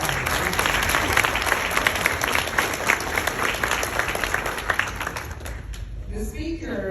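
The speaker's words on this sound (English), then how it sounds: "That's a round of applause." Audience at a nursing graduation ceremony applauds steadily, a dense, loud wash of clapping that holds for several seconds before thinning out near the end.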